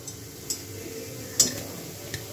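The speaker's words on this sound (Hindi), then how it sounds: "हम लोग इसे फ्राई कर रहे हैं, हमारा तेल देखिए गर्म हो चुका था" Gulab jamun fry in hot oil, a soft steady sizzle with a few sharp clicks and taps of a utensil against the pan.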